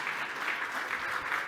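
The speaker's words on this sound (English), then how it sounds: "I think we must give a round of applause to all 4 candidates" An audience at a Cape Town Tourism annual general meeting applauds the four board election candidates, a brief, even wash of clapping from a moderately distant crowd.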